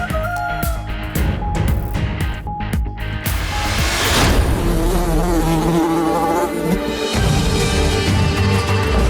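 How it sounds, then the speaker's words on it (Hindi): Houseflies swarming in Karachi, a dense, steady buzz of many insects that runs for the whole stretch alongside other layered background sound. "कराची में मक्खियों की भरमार से मुतालिक दरख्वास्त।"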